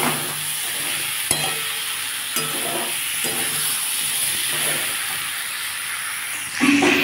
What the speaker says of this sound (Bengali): এবার ভেজে রাখা পটলটা আমি এর মধ্যে দিয়ে দেবো। দিয়ে আর একটু কষে নেব।